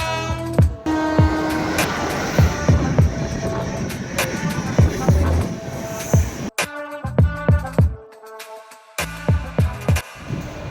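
A local commuter train in Maharashtra rumbles along with steady rolling noise and rhythmic clacks of wheels over rail joints, briefly quieting before the clatter resumes.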